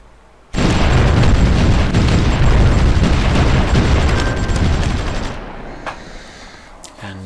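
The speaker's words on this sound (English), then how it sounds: "They've got massed artillery there." Massed artillery bombardment in the strategy game Supreme Ruler Ultimate: a sudden loud wall of explosions and booming blasts that rumbles for several seconds, then fades to a few scattered pops.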